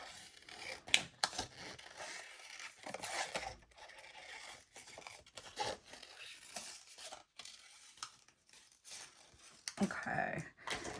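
Scissors snipping out pink patterned paper at a scrapbooking craft table, close and quiet, in short irregular bursts of cuts and paper rustles with brief pauses between them.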